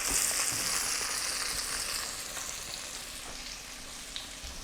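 Flounder fillets for meunière frying in a pan, a steady close sizzle and crackle that eases slightly in level toward the end, with no voices.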